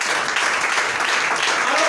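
Congregation in a French-speaking church breaking into applause, a dense, loud wash of clapping hands that holds steady without a break.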